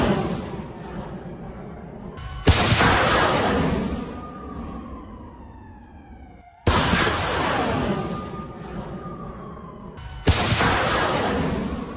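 An M270 MLRS multiple rocket launcher fires in news footage, with three abrupt loud blasts spaced several seconds apart, each followed by a long roaring whoosh that fades as the rocket departs.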